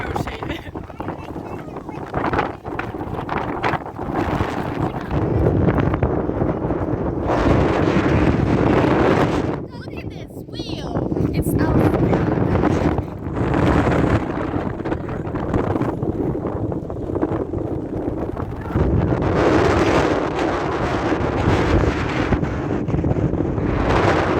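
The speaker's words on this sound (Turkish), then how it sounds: "çok rüzgarlı bugün" Strong wind buffets the microphone outdoors in a village near cows, in loud, rumbling gusts throughout, with voices speaking underneath at times.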